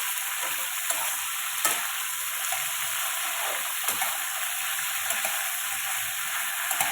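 A brinjal chutney mixture with fresh coriander is stirred in a pan, making a soft steady sizzle with light, intermittent scrapes of a spoon, near and fairly quiet, with no talking.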